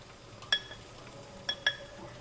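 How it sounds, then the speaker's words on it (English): A spoon stirs a cream and almond extract glaze for waffle iron hand pies in a bowl, with three or four light clinks against the side spread over a couple of seconds in a quiet kitchen. "we're just going to go ahead and we're going to stir this in"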